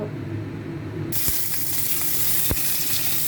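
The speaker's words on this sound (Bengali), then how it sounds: "আমার কড়াই বেশি তেল গরম হয়ে গেছে আমি ইলিশের মাথা দুটো আগে ভেজে নেবো" Two hilsa fish heads dropped into hot mustard oil in a wok, setting off a sudden loud, steady sizzle that keeps going, with a couple of sharp pops and spatters.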